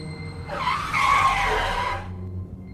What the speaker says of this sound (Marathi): तातडीने ब्रेक मारला टायर घातल्याचा आवाज आला